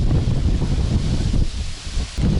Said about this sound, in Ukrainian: Покльовка і вітрюга такий ураган.